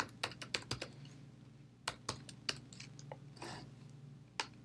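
Mac computer keyboard being typed on while writing Java code: a close series of crisp key clicks in uneven bursts, with short pauses between runs, over a faint steady hum.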